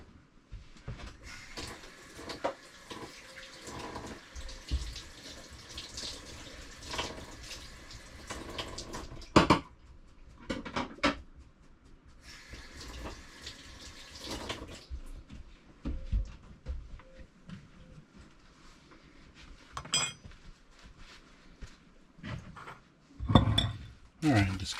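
A cutting board being washed under a running kitchen tap while cooking shrimp and zucchini boats in an RV, with splashing water, clinks of dishes and utensils, and intermittent talk over it.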